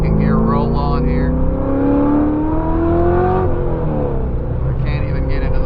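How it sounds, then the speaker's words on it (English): A Chevrolet C6 Z06 Corvette engine pulls hard in a second-gear roll, its loud rising tone climbing steadily for about three seconds before easing off as the revs drop, with voices heard over the engine. "I can get you guys a little bit of a second gear roll on here."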